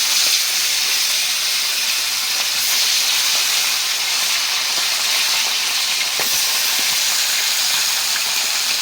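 Tilapia fish frying in hot oil in a wok, giving a steady, loud, close sizzle and hiss that runs unbroken throughout with no voices.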